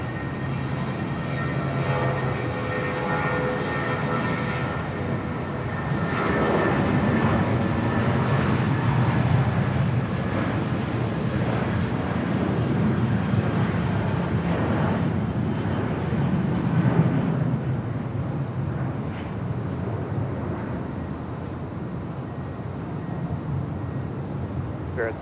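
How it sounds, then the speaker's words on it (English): An Emirates Airbus A380 in special livery at Los Angeles International Airport, a sustained broad jet rumble swelling slightly in the middle and then holding steady, heard alone without talk. "Special livery on this Emirates A380."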